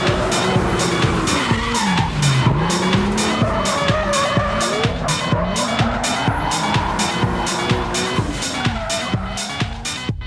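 A Nissan Silvia drifts, its engine roaring continuously while the tires squeal and skid, loud and sustained across the whole stretch, with rapid rhythmic mechanical pulses running underneath.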